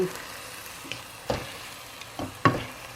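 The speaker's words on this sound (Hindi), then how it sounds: "हो जाएंगे अच्छी तरीके से मैश।" Potatoes and vegetables for pav bhaji are mashed in a pan over a soft sizzle, with several separate thuds and scrapes from the masher, close up and without talk.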